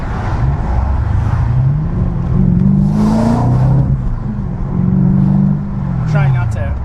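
A modified BMW E92 M3 engine revving in a few rising and falling pulls, loud and close from inside the car, with people talking over it.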